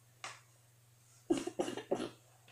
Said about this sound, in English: Thought you'll be coughing a bit in this video.